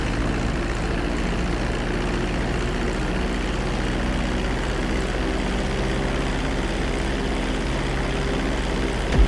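Airplane engines drone steadily in GTA V as the plane slows on approach to a runway, a constant low propeller-like hum with a broad rushing noise, loud and unbroken, ending in a brief bump.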